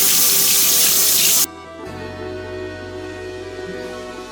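Tap water runs loudly into a sink while Idaho potatoes are washed, then the flow shifts to a softer, steady stream with faint handling sounds beneath, no voices.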